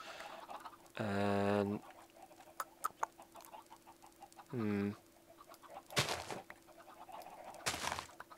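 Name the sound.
chickens clucking in Minecraft video game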